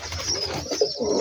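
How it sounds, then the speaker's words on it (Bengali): Rajshahi Giribaz pigeons in a loft give a brief, close, throaty coo or two over a steady background hiss, with no talk. "কবুতরটা নামার চেষ্টা করছে।"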